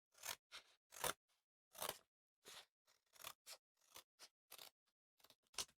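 Scissors snipping through stiff cardboard, about a dozen separate crunchy cuts at an uneven pace, close up with quiet pauses between them.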